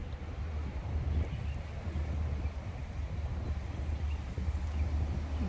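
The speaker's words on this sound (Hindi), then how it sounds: "हवा ज़बरदस्त हवा चल रही है माशाल्लाह।" Strong wind in an open park in Dubai buffets the microphone with a steady, low roar that holds throughout, with no talking.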